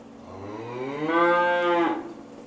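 A single long, deep moo from cattle out in a pasture, rising into a loud drawn-out bellow before fading, heard alone and fairly close.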